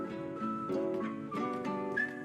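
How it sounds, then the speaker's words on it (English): Melodic whistling in a hip-hop music video, a clear tune of several sustained and stepped notes over a soft backing track with no voices. "I like the whistle."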